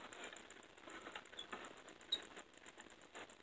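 A hand-cranked electrostatic generator ratchets with fast, regular mechanical clicks that run continuously and fairly quietly, with no voices.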